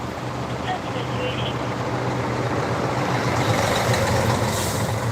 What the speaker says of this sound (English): too much noise from the engines, from the fire truck and the tow truck